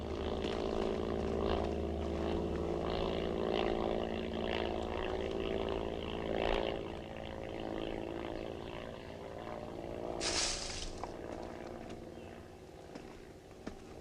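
A propeller airplane drones overhead in a 1971 Yugoslav film, a steady, moderately loud engine hum that swells and fades, with a short sharp hiss near the end.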